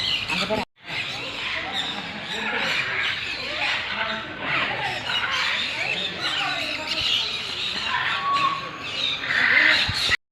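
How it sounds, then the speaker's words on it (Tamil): Many birds squawk and chatter together in a dense, continuous flock, loud and close, with scattered sharper calls rising over the din for the full stretch. "கைஸ் நிறைய பறவைலாம் இருக்குங்க."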